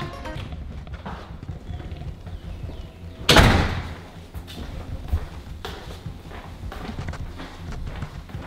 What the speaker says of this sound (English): it's time to go sneak in the front door